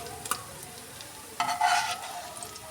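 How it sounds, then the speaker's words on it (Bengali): Sliced onions frying in oil in a pan, with an intermittent sizzle that swells midway and soft stirring scrapes, close and moderately loud with no talking. "তো পেঁয়াজটাকে আমি দিয়ে একটু এরকম লাল লাল করে ভেজে নিয়েছি"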